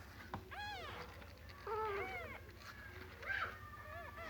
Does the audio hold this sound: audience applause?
no